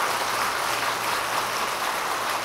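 Audience applause at a Buddhist dharma talk, a steady, dense wash of many hands clapping that holds at an even level throughout, heard without talking.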